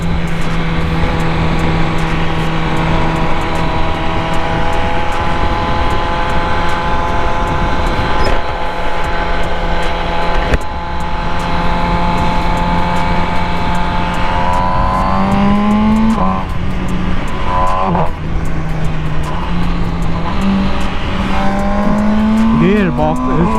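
A 2020 MV Agusta Brutale 1000RR motorcycle engine drones loud and steady throughout a ride, its tone rising and falling as it revs through gear changes, with wind noise and a rider talking over it.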